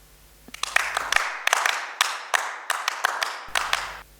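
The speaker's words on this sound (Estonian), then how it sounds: "Plaksutamine on õpitud heakskiidu märk." A single pair of hands claps about a dozen times in an uneven rhythm, each clap sharp and close, with a faint steady hum dropping out partway through.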